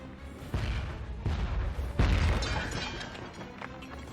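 Mortar shells landing in Jagged Alliance 3, three heavy booming blasts spaced about a second and a half apart, each with a rumbling tail over continuous battlefield noise.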